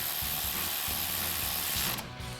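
Socket ratchet with an 8 mm socket tightening an ABS line bracket on a Ford F-150, rapid close clicking that runs steadily and then stops abruptly.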